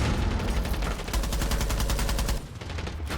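Automatic gunfire in the video game Rainbow Six Siege: a loud rapid rattle of shots in a steady stream, easing slightly near the end.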